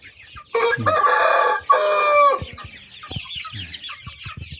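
Roosters crow loudly in two long calls, followed by a run of softer, rapid clucking and chattering from nearby chickens and ornamental chicks.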